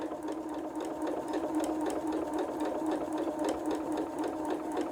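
A sewing machine runs steadily at close range, stitching fabric for half square triangles along a scant quarter-inch guide, with a continuous even whir and rapid needle rhythm and no talk.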